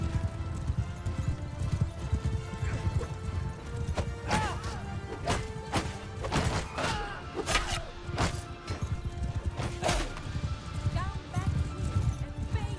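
Horses gallop across a battlefield in Mount & Blade Bannerlord, with dense clip-clop hoofbeats, sharp weapon clashes and impacts, and a whinny or two, all under shouted speech.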